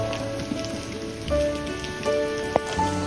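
Heavy rain falls on surfaces at an outdoor monkey theater in Aso, a constant patter with occasional sharper drops and a few brief tonal sounds mixed in.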